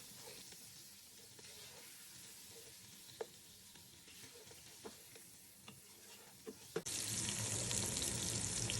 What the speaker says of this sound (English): Once you add in the spices, give it a good stir and fry for around 2 to 3 minutes or till the beef changes color.